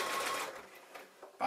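A sewing machine stitches the rolled hem of a pair of jeans, running in a steady close whir for about a second before easing off, with a brief burst of stitching at the end.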